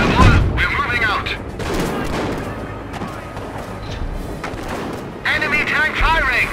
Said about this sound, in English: Enemy tank firing.